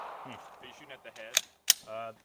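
Two sharp gunshots crack close by at a target during a torture test of an optic, spaced apart, while people talk between them.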